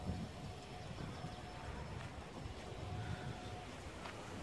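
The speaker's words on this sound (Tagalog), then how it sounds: "Saka sobrang lakas ng hangin mga kamusto kaya masyadong maingay." Strong wind gusting across an open vegetable farm field where bitter gourd is grown, a steady broadband roar with low rumbling buffets against the microphone throughout, with no voices.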